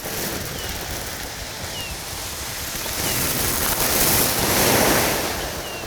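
A foley effect imitating waves on a pebbly beach: a steady rushing wash, swelling louder midway and easing back, with no voices.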